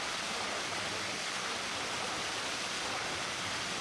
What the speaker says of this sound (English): This is also called the Black Waterfall.